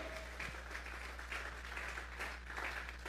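Faint, steady applause from a church congregation, a continuous patter of many hands clapping at a distance over a low electrical hum.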